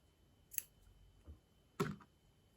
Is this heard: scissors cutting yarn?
yes